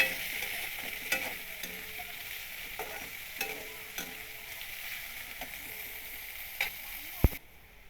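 Chopped onions frying with whole spices such as cloves, cardamom and fennel in a pan, a steady soft sizzle throughout with occasional stirring clicks and a sharp knock near the end.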